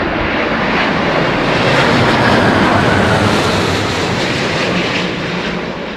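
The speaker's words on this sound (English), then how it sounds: "Look at this beautiful aeroplane." An airliner with blended wingtips passes overhead at Heathrow, its loud, steady engine roar and rushing air swelling slightly and then easing away across the whole stretch.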